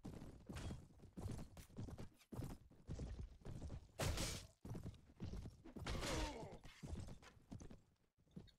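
Hoofbeats of a horse being ridden in the Mount & Blade video game, a fast irregular clip-clop of thuds over battle noise, fairly faint overall.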